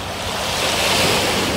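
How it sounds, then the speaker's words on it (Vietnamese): Sea waves roll in at Go Cong beach in Vietnam, a loud, continuous roar of surf mixed with heavy wind buffeting the microphone, with no voices. "Quý vị có nghe tiếng sóng biển không?"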